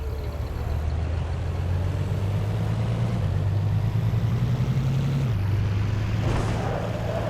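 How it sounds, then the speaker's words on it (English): A loud pickup truck engine in the zombie game State of Decay runs continuously, a steady low drone with a slight shift in pitch partway through, and no talk. "tooling through town in a loud pickup truck means that every zombie and his brother knows where I'm at"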